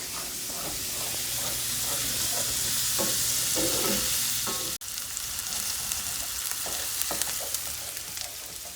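Chopped onions sweat in a hot pan, giving a steady, close sizzle. Occasional stirring scrapes and taps cut through it, with a brief break partway through.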